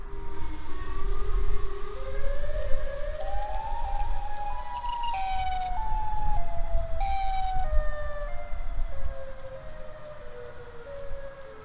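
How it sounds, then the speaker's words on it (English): A recorded tornado siren wails alone, its rising and falling tone sliding up and down in long sweeps over a low rumbling background, loud and sustained throughout. "first let's check out the tornado siren"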